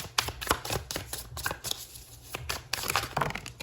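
Tarot cards are shuffled in quick riffling bursts, close by and fairly quiet, with short pauses between rounds.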